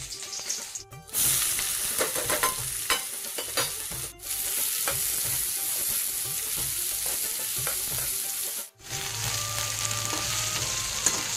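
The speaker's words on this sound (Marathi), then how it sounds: "आता कढाई ठेवलेली मी. आता एक एक फोडणी टाकून घेऊया फटाफट" Spices and onion temper and fry in a hot wok for a festival dish. A steady close sizzle with stirring scrapes runs throughout, with two brief drops where the hiss pauses before resuming.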